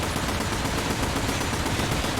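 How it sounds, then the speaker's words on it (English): Dense, continuous automatic machine-gun fire rattles without pause in a combat flight simulator, loud and close, the rapid bursts blending into one sustained barrage. "I can hear gunfire behind me, machine gun fire."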